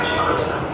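A brief, steady rumble comes from inside a moving metro train, with a voice faintly audible over it.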